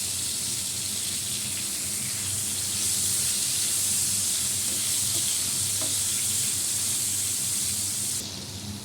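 Potatoes sizzling in hot oil in a pan, a steady, loud frying hiss that runs continuously and alone, swelling slightly midway before easing at the end.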